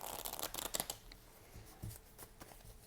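A deck of tarot cards is shuffled close up: soft riffling and flicking bursts, then quieter slides and taps of the cards.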